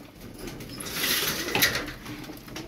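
Pigeons kept as game birds cooing softly at close range, a few low murmuring calls swelling and fading over a couple of seconds with light rustling and fluttering around them.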